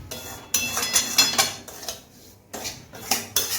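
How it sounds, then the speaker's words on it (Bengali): A metal spoon scrapes and clinks against a pan while stirring semolina upma, in bursts of rhythmic strokes separated by a short pause, close and fairly loud with no talking. "একই রকম ভাবে নাড়তে হবে, দাঁড়ালে চলবে না।"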